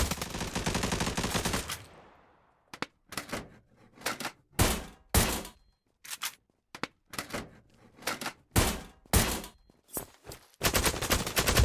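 Gunfire in the online shooter Zula: a long sustained burst, then a string of short, sharp volleys separated by brief gaps, loud and close, ending in another continuous burst.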